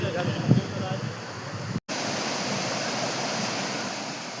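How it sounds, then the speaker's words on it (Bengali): Kiukhola waterfall in Sikkim pours as a steady broadband rush heard close by, with a brief burst of nearby voices near the start and a sharp momentary dropout partway through. "কিউখোলা ফলসের সামনে আমরা দাঁড়িয়ে আছি।"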